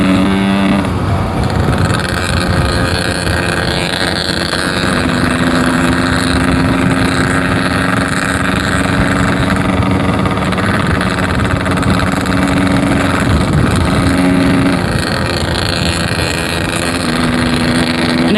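Motorcycle engine with a carburettor that still needs tuning, revved hard through roughly 4,000 to 6,000 rpm on the ride home from a club anniversary event. It runs loud and steady throughout with a rough, sputtering edge, and no talk is heard.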